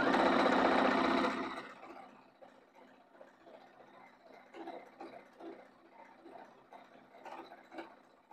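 A sewing machine stitching seams on a quilt made from recycled denim jeans runs with a steady whirring drone for over a second, then stops, leaving quieter intermittent mechanical rattles and handling sounds.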